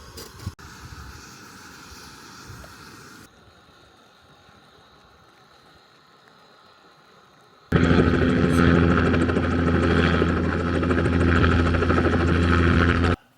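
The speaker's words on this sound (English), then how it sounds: "as much as we can with the helicopter going on." A loud, steady helicopter rotor drone comes in abruptly and dominates the latter half, after a quieter stretch of low background hum, on Mount Rainier.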